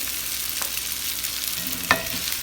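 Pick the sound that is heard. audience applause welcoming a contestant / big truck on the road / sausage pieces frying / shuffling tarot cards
sausage pieces frying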